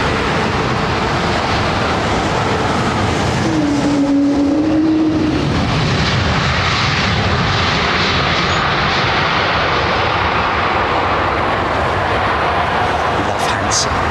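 An Airbus Neo jet arrives on runway 27R at Heathrow, its engine roar sustained and loud across the whole stretch, while voices talk over it.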